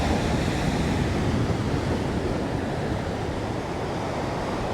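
Steady roar of ocean surf breaking on the beach at Piñones, Puerto Rico on a sunny day, continuous and loud with some wind buffeting the microphone, no voices.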